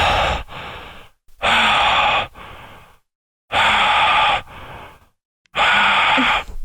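A voice imitates the masked killer Michael Myers from the Halloween film breathing behind his mask: four long, loud, hoarse breaths alternating in and out with short pauses between them, close to the mic, with no talking.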